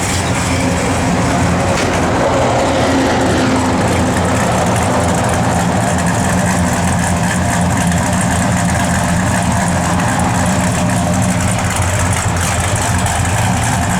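A 1967 Plymouth GTX muscle car engine idles continuously at close range, its low steady rumbling throb holding even with no voices over it.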